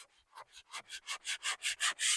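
A diamond pad is rubbed over granite in quick back-and-forth strokes, about ten rhythmic scrubbing passes that grow louder and faster, heard up close and alone.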